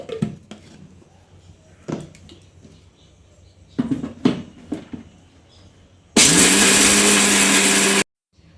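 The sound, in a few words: mixer grinder grinding coconut for ragi dosa chutney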